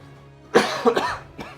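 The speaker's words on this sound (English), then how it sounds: "Cough is really flaring up today." A person coughs several times in quick succession, close and loud, with a brief pause before a final cough.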